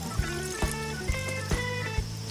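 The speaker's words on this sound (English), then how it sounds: "Add 2 cups of water." Water poured into a barbecue drip pan holding onions, garlic, salt and pepper over hot coals, a bright trickling splash with several soft knocks spaced through a short burst, fairly close and with no talking.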